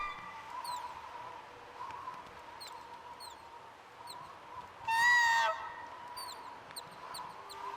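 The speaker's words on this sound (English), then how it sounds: "I hear the birds." Birds chirp and call in repeated short, bright bursts over a quiet ambient hum in the video game Myst III: Exile, with one louder, longer squawking call rising in the middle.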